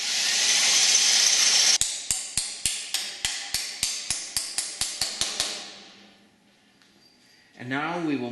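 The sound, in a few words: drill boring 1/4 inch hole in aircraft wing spar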